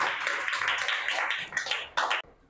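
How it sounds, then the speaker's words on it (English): A classroom of young students claps for a girl, a dense burst of many hands applauding nearby, thinning out and then ending with a final flurry of claps. "Clapping for this girl."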